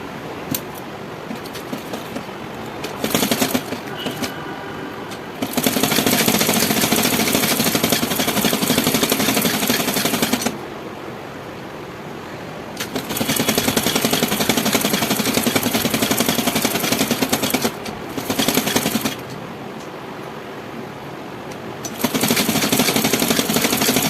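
A sewing machine stitching the folded hem of a baby frock, loud steady mechanical whirring in long continuous bursts separated by short quieter breaks.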